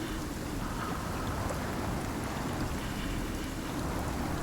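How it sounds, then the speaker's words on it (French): A rain shower in the survival game Icarus makes a steady, dense hiss of rainfall and wind, constant and moderately loud throughout with no talk. "On va pas mourir à cause d'une averse."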